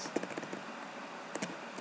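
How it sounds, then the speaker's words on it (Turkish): Computer keyboard keys pressed during a Scratch programming session, a few quiet scattered taps and clicks with no talk. "Klavyeden tuşlarımı bastığım zaman"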